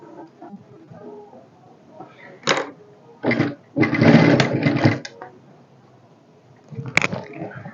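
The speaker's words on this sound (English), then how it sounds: "So I'm going to sew straight down." Sewing machine stitching a straight seam on a jean skirt, running in several short bursts of varying length with quiet pauses between them, fairly close.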